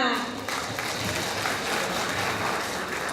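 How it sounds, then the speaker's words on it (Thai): Steady audience applause at a group leadership activity, dense and continuous throughout, with faint voices mixed underneath. "ขอเสียงปรบมือค่ะ"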